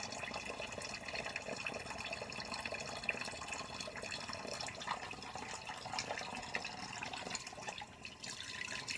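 Cold tap water runs steadily into a sink while a freshly shaved head is rinsed, a constant close splashing hiss with no talking.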